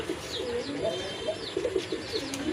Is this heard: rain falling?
no